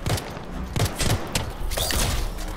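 Gunfire in the video game Anthem: sharp, punchy shots land in quick irregular bursts, some doubled, over a busy rumbling game background with no voices.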